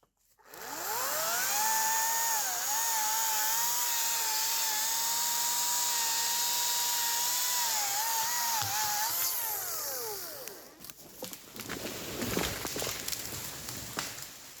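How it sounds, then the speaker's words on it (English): A Ryobi chainsaw cuts down a tree, its motor holding a steady, loud high whine for about ten seconds with a brief dip in pitch, then cutting off into rustling and crackling as the tree gives way. "I got another saw. I'm just gonna go the same direction and try to cut the tree, let it fall."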